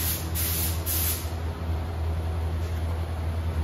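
Spray gun laying down the final base coat on a 1975 International Scout II in a shop, a steady close hiss running unbroken throughout.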